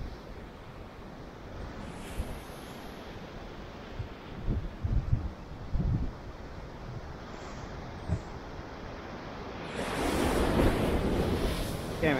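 Ocean surf rolls and crashes against a rocky shore at Big Sur, California, in a steady roar with several heavier thumps and a louder surging wash near the end, mixed with gusting wind buffeting the microphone.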